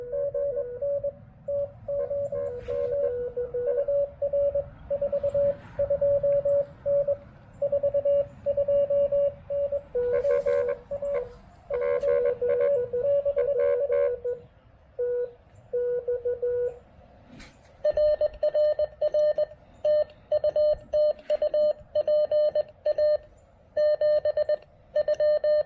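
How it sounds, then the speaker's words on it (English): On a Xiegu G106 ham radio at an outdoor park activation, Morse-like keyed tones beep in rapid on-off bursts while interfering signals at other pitches cut in and overlap, loud and continuous through the receiver. "Oh, QRM, yeah."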